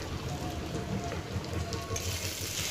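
Spice masala with kasuri methi, coriander and turmeric frying in a pan: a steady, close sizzle and crackle of hot oil throughout, a soft voice faintly present beneath it.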